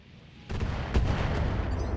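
Mech weapons firing in the BattleTech video game, a dense sustained barrage of heavy blasts that kicks in abruptly and rumbles on loudly with a sharper impact near the middle.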